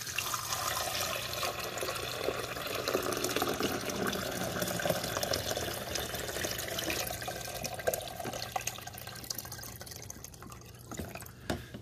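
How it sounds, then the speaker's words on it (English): Vinegar and water pour into the rear reservoir of a Cuisinart DCC-3200 Perfectemp 14-cup coffee maker in a steady, fairly quiet trickling stream with dripping and splashing, ending in a few light clunks. "I'm just going to pour this in the back where the water goes."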